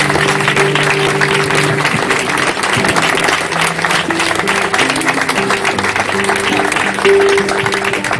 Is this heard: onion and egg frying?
no